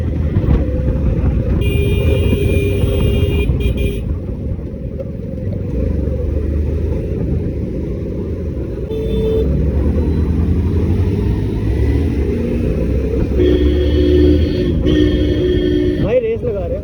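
A car engine rumbles steadily and swells as it accelerates to overtake another vehicle, with a loud, continuous drone and brief higher whines on top.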